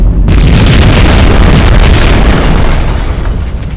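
A heavy explosion in the video game Max Payne booms loud and deep, a sustained rumbling roar with crackling debris that slowly fades toward the end, no voices over it.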